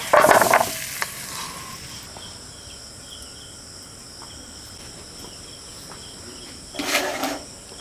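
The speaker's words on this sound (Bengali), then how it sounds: "হালকা ভাজা ভাজা হয়ে গেছে, তারপর লাস্টে লবণ আর হলুদ দিয়ে আর একটু ভেজে নেব।" A soft sizzle of cabbage frying in a pan runs throughout, with louder bursts of stirring and scraping at the start and near the end.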